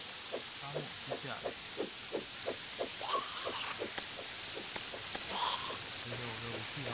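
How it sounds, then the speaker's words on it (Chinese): Steady rain falls in a desert in the video game Terraria, a soft continuous patter under rhythmic game sound effects and occasional voices. "沙漠下雨了"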